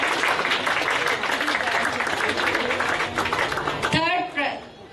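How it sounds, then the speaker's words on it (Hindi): An audience claps heartily for children at a school prize distribution, a dense wash of applause that fades out near the end as a voice takes over. "जोरदार तालियों से स्वागत करिए हमारे बच्चों का"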